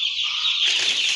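Three-day-old chicks, agitated and thirsty in a brooder, give a dense, continuous mass of high, shrill peeping, close and steady throughout, swelling slightly louder in the second half.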